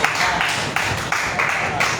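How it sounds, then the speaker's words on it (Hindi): Applause from the audience at a Delhi poetry gathering (kavi sammelan), a steady loud wash of clapping from a crowd with a few sharper bursts. "तालियां हो जाए एक बार"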